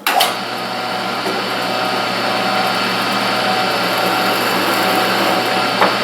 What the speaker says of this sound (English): and then drilling my hole